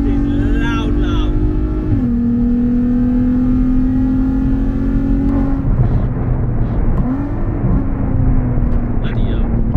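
A loud car exhaust with a hole in the back box, droning steadily under load with engine pitch dropping as gears shift, heard inside a hot hatch on the road.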